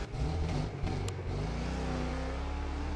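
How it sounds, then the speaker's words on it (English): Car engine in the racing game Wreckfest 2 revving steadily and loudly, a continuous mid-pitched roar with a brief dip and surge near the start, no voices over it. "all I can hear is his engine"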